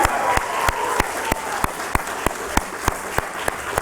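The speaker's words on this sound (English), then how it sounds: "I think that deserves a big round of applause." Loud, steady audience applause at a Nasdaq opening bell ceremony, a dense wash of many hands clapping with sharp periodic bangs throughout, no voices on top.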